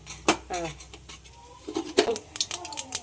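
Mustard seeds and urad dal crackle and splutter in hot oil in a home kitchen, giving irregular sharp pops and light clinks at close range, while someone talks quietly nearby.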